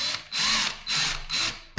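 Dewalt 20-volt cordless hammer drill running in three short high-pitched whirring bursts separated by brief pauses, close and fairly clean, ending with a quick clack.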